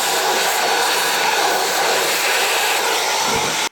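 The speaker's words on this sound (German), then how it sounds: "Und auch das Pulver innen drin entfernt er jetzt mit dem Staubsauger" A vacuum cleaner sucks coffee powder out of the grinder of a Saeco Vienna coffee machine, a loud, steady rushing drone that cuts off abruptly at the very end.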